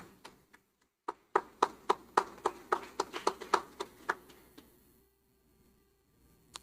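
Church congregation clapping in praise to the Lord during a service: about a dozen sharp, evenly spaced claps in a quick rhythm, fairly close and clear, then stopping into near silence.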